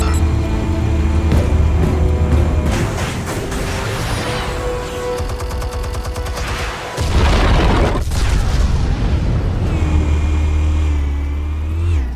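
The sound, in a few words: explosives going off in the video game Batman: The Telltale Series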